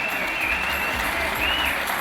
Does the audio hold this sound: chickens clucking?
no